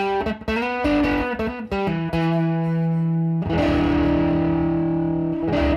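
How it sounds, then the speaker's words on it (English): An electric guitar plays through a Sofa Car Effects Pomade fuzz pedal, giving a thick fuzzy overdrive tone. A few choppy chords and notes lead into a long, loud sustained distorted chord that rings on alone. "even at lower fuzz volumes, it actually gives a nice fuzzy overdrive feel"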